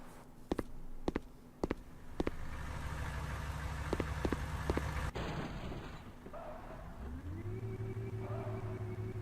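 Porsche engine in a racing video game, a steady idle hum with repeated sharp clicks early on, then a rising whine as the engine revs up and pulls away, loud and close.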